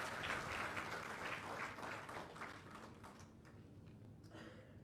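Applause rises from the audience at a Panchkula event tied to the civil services examination, fairly faint and distant, starting fuller and gradually thinning into scattered claps as it dies away.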